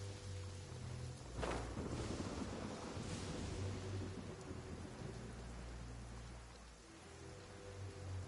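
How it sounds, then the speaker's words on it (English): Steady, dense rainfall hisses in the video game Genshin Impact. A sharp thunderclap cracks early on and rolls off into a long rumble, with the downpour continuing evenly throughout and no voices. "The rain."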